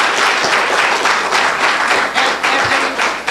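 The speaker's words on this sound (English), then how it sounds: "Let's give them a round of applause" Loud, dense applause from the audience at a San Francisco school board candidates forum, a continuous wash of many hands clapping close by with slight swells in intensity.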